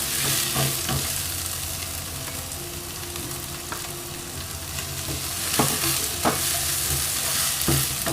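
Chopped garlic fries in oil with dried Bombay duck (loitta shutki) in a pan. There is a steady close sizzle with scattered spoon-stirring clicks and scrapes throughout, and no voices.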